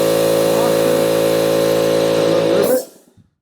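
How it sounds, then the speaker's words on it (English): An air compressor motor hums loudly and steadily with a strong tonal whine, close by, then cuts off abruptly and falls to silence near the end. "Let's get my air compressor fired up and the rivet gun."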